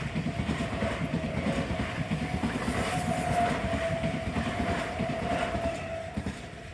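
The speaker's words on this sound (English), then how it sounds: "trams glide over the Ishizu River" A tram crosses the Ishizu River in Osaka with a steady rumbling roll and rhythmic wheel clatter, a faint whine running through it, moderately close and fading slightly toward the end, with no voices.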